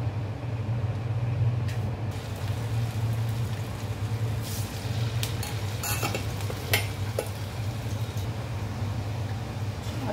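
Chakli spirals frying in hot oil over medium heat, a steady close bubbling sizzle with a low hum beneath and a few sharp clinks of utensils near the end.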